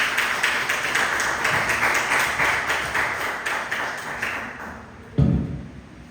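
Church congregation clapping together at an evening Thursday service, a dense steady patter of many hands fading out over several seconds, then a single louder thump near the end.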